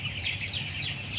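Broiler chickens in a poultry house giving steady, continuous clucking and murmuring calls, a dense flock chorus heard up close with no talking.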